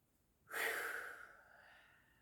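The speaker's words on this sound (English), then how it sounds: "I do several through into one nostril and then change and breathe several times in the same way into the other nostril" A single breath drawn through one nostril: a soft, airy rush that starts abruptly, swells, then tapers into a long, fading hiss, close and quiet with no talking.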